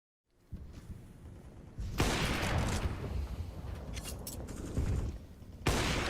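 In Counter-Strike: Global Offensive, AWP sniper shots punch through a wall: a few sharp, loud cracks that stand out against a constant gunfire and match din, with no talk over them.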